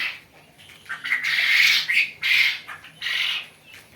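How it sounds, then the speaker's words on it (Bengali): Tiger chicken chicks and quail chicks at a poultry farm in Jamalpur, Bakshiganj, cheeping in several shrill bursts, close and fairly loud, with no talking. "আমার কাছে টাইগার মুরগির বাচ্চা আছে কুইল পাখির বাচ্চা আছে"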